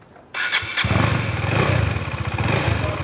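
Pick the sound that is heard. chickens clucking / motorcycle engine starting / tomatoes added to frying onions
motorcycle engine starting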